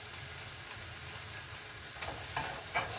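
Cauliflower and black beans cook in a pan, a soft, steady sizzle with a few light stirring scrapes toward the end.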